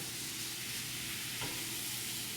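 Food is stirred in a hot pan, giving a steady close sizzle with soft scraping of the stirring throughout, and no one speaks.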